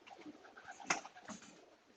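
Young racing pigeons coo softly inside a loft, low murmuring calls overlapping with a brief louder flutter or call near the middle.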